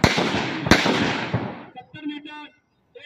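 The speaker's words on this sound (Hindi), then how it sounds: "दुश्मन का एलएमजी पोस्ट फायर वहां से आया" A sharp blank-fire crack simulates enemy LMG fire during an NCC cadet drill demonstration. Several loud, close reports burst out and their rumble fades, followed by a voice speaking briefly.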